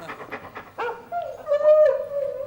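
A dog gives a few quick, close yaps, then a drawn-out rising and falling whine, all short and clear against a quiet background.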